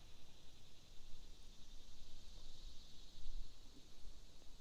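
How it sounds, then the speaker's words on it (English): Cicadas drone in a steady high-pitched buzz across a quiet lake, heard from a kayak, with faint birdsong and a soft rustling background. The sound is low in level, and no one speaks. "Hearing the cicadas in the background,"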